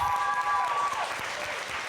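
An indoor audience at an evening pitch contest claps in a dense, steady burst of applause that fades slightly toward the end, with a brief tonal note at the start.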